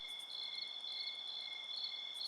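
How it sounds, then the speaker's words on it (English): Crickets chirp steadily in a continuous high-pitched trill, a soft nighttime insect chorus with no other sounds. "put some crickets in there to make it sound like nighttime"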